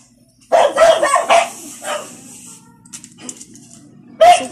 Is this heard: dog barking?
yes